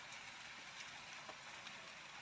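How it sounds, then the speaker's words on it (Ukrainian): Light rain falls outdoors, a steady soft patter of drops with faint scattered taps, continuous and even throughout with no voices. "йде дощик на вулиці"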